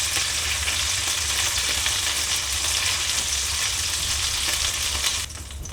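Chicken pieces frying in a pan with olive oil, giving a loud, continuous close-up sizzle that drops slightly in level just before the end.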